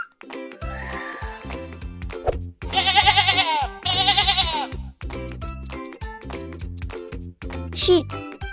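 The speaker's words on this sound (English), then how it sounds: "Goat." A goat bleats twice in a row, loud and close, against a children's learning tune with chiming jingles and spoken words.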